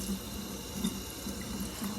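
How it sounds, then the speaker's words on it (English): Tap water runs steadily over a dryer lint filter being washed at a sink, a faint continuous trickle with soft splashing and no speech. "you want to get your filter and give it a wash"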